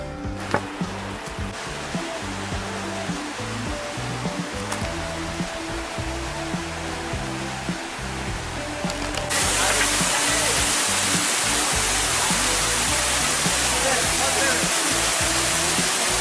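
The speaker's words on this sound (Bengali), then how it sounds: "জলের আওয়াজটা পাওয়া যাচ্ছে।" Piso Glundu waterfall in Mandasaru valley, a steady broadband roar of falling water that grows louder partway through, heard without talk.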